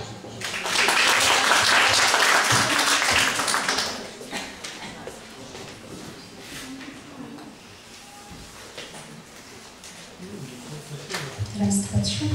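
Audience applause at a song festival in Szczecin, loud and dense for about three seconds, then fading into scattered claps and room noise as the music prepares to start.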